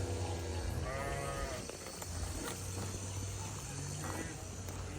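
A red-and-white hybrid cow lows a couple of times in a farm setting, against steady background noise, while people talk nearby.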